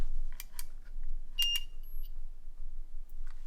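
A few short electronic beeps and a thin high tone chirp from a nearby handheld paranormal detection device during a ghost investigation, with quiet background between them.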